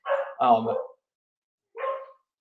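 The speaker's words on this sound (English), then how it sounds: "Sorry, my dog is barking." A pet dog barks indoors, two quick close barks followed by a pause and then a single softer bark, loud and alone without talk.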